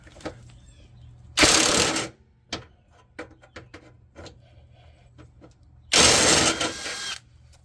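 Metal clicks and ratcheting taps from a needle nose vice grip working a nut loose on a bolt below decks on a boat, with two loud bursts of scraping, rushing noise between the sparse mechanical ticks.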